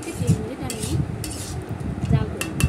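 A spoon scrapes and clinks against a pan while mango, tomato, tamarind and date chutney is stirred, giving soft rhythmic knocks roughly every second over a faint sizzle.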